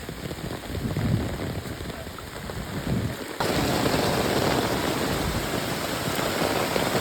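Heavy monsoon rain pours steadily in the Konkan countryside, a dense continuous roar that grows louder midway and stays intense, with no voices.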